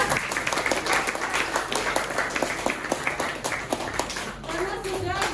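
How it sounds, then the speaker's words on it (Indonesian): Schoolchildren in an Indonesian classroom break into a burst of brisk, steady group clapping for their class, with children's voices chattering underneath and rising near the end. "kita tepuk tangan dulu dong buat kelas."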